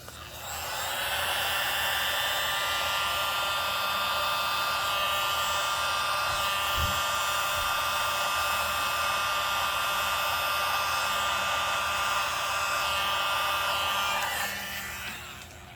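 A blower hums steadily and close as it is aimed at an acrylic pour painting, starting up and running at an even whooshing whine for about fourteen seconds before cutting off.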